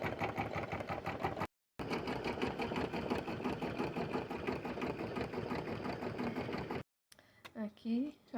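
A sewing machine runs a fill stitch with a fast, steady mechanical rattle that stops briefly and restarts, then falls silent before a voice is heard near the end.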